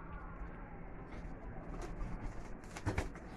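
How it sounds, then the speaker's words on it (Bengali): Wild Jalali pigeons settle one after another, giving soft, faint coos and light wing sounds over quiet outdoor background hiss, with a brief louder flutter near the end. "এই এক এক করে কবুতর নেমে যাচ্ছে"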